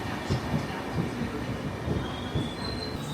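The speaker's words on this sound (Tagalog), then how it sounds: "I'm not too sure if this is our train." Train rolling past a station platform in the Netherlands, a steady rumbling roar with rhythmic wheel thumps and a thin high squeal of wheels on rails, continuous and fairly close throughout.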